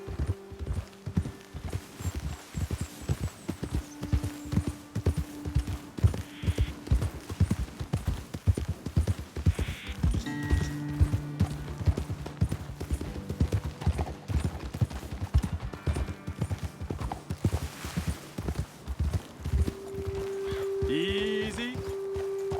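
Horse hooves clip-clop steadily in Red Dead Redemption 2 on PS5 as riders climb toward a hilltop ledge, a brisk rhythmic trot running the whole time with game music and ambient sounds layered underneath.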